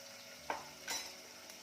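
Sliced onions frying in a pan for Kolhapuri chicken rassa, a soft low sizzle broken by two brief scraping stirs of a spoon.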